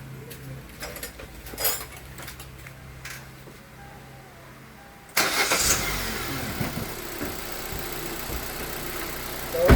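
A 2014 Hyundai Accent with a hard-starting fault: a quiet stretch of faint cranking and ambient noise, then the engine catches abruptly about halfway and settles into a close, steady idle.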